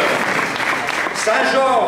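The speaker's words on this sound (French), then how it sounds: "On applaudit la poète." Audience applause at a slam poetry semi-final, a steady crowd clapping that runs the whole stretch, with voices and a whistle-like cheer rising near the end.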